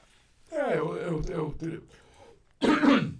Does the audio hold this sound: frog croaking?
no